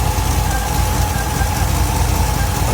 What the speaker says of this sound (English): whatever that whirring noise is